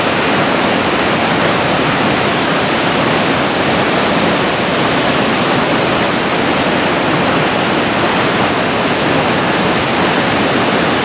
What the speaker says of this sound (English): it's wet because of the spray off the falls here